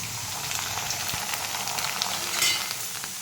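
Rice papad frying in hot oil, a steady, close, bright sizzle with crackling bursts that swell briefly near the end, with no voices.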